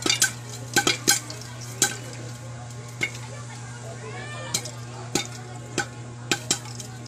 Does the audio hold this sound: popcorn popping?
yes